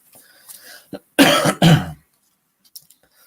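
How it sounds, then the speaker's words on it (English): A few quiet throat noises lead into two loud, harsh coughs close to the microphone, followed by silence. "each time I do a live, I always cough"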